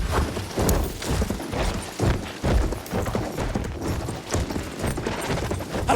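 A cavalry horse gallops in the video game Battlefield 1 with rapid, heavy hoofbeats in a driving rhythm, loud and close, mixed with battle noise and a shout or two.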